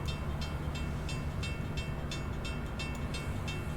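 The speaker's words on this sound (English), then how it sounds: "train coming in rather, so we're still waiting" A train arriving in the railway game Train Sim World 3, a steady rumbling roll with regular rhythmic clicks of wheels over rail joints, fairly near and continuous.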